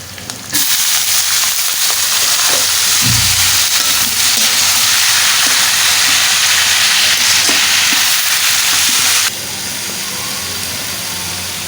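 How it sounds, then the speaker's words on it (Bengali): Onions frying in a wok before bitter gourd is added: a steady, loud hiss and sizzle held for about nine seconds, then dropping to a softer sizzle, with no talk. "কড়াইতে আমি পেঁয়াজ দিয়ে দিয়েছি, সেটা হালকা লাল করে তাতে আমি করলাগুলো ছেড়ে দেবো"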